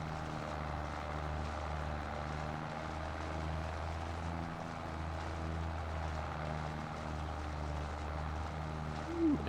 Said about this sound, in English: The Minneapolis Lean does not like climbing the hill, does it?